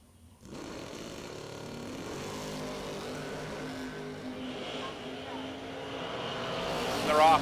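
Drag racing cars launch off the start line on a sunny 68-degree day at a strip, a broad roaring engine wall that holds steady and swells louder near the end, with commentary talk layered over it.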